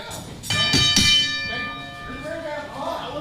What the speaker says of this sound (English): And there's the bell as we get ready.